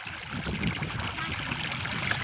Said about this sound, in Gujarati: તો પાણી ચાલુ કરી દીધું